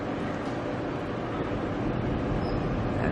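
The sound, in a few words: locomotives moving around the Spirit of the Outback train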